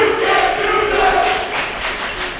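Home crowd of Eagles fans in a high school varsity basketball gym, a loud dense roar of many voices jeering and shouting together at a player, sustained throughout.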